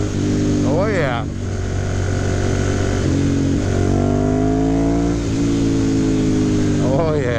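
2009 Ducati M1100 Monster motorcycle engine revving while riding, a loud close rumble with rising and falling pitch sweeps as the throttle opens, under a voice.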